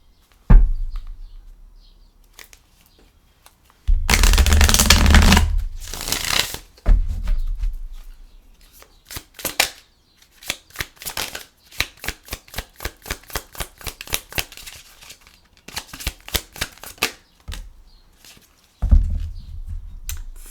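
A deck of tarot cards being shuffled by hand, with bursts of riffling and soft repeated slaps and patters in irregular clusters, close and fairly loud, no talking.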